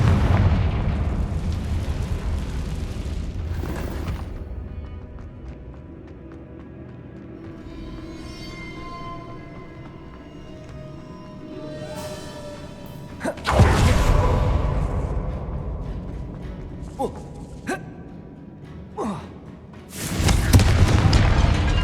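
Repeated booming fire-spell blasts (Confringo) from Hogwarts Legacy gameplay, with loud low-heavy explosions near 13.5 and 20 seconds and a rumbling magical hum and crackle in between, no talking.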